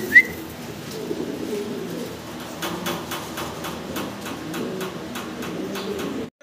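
Two young male fancy pigeons fighting, low cooing and rustling with a run of sharp rhythmic taps and wing flaps, close and moderately loud.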